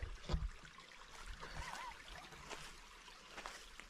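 A natural countryside creek trickles and gurgles steadily, with soft splashes from feet stepping into the water close by, faint and continuous throughout without talk.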